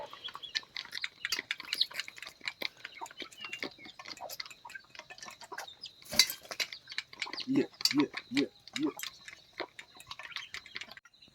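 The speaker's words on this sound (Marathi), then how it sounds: "हा बघा आला कोंबडा आला शेवटी" Rooster and hens on a farm, with faint scattered clucks and short crowing-like calls against light clicking and ticking noises, soft and somewhat distant.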